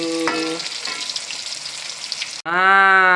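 Hot oil sizzling steadily with small pops and crackles as freshwater prawns fry, briefly cut off before a harmonic tone ends the clip.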